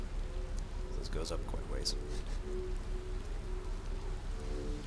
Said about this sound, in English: the designers did the raindrops too